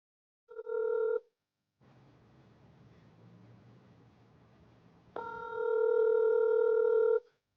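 A phone rings out unanswered, with a short ring tone, then a stretch of low line noise, then a longer steady ring that cuts off, fairly loud and alone.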